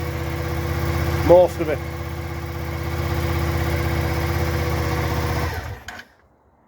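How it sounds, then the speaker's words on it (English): A Suzuki SV650 motorcycle engine idling nearby, a steady low throbbing drone with a brief louder blip partway through, holding evenly before cutting off abruptly near the end; a few words are spoken over it. "It's like a kid starting bikes up."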